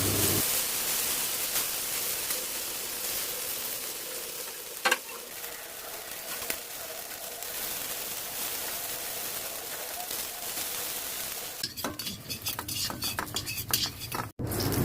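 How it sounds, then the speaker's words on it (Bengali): Chhana coated with salt and turmeric frying in hot oil in a wok: a steady close sizzle throughout, with a few sharp clinks of a spoon against the pan and busier stirring scrapes near the end. "কড়াইতে তেল দিয়ে ছানা লবণ হলুদ দিয়ে মেখে ভেজে নিচ্ছি"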